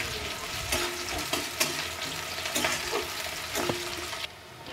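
Onions frying in a pan for an Odia home-cooked dish, a steady close sizzle and crackle with occasional stirring scrapes running throughout, no voices.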